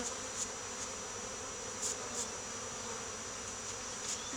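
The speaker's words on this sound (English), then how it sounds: "try to get out as many of them bees as you can" Honeybees from a swarm buzzing around hive frames outdoors, a steady droning hum with occasional louder passes as individual bees fly close, no talk over it.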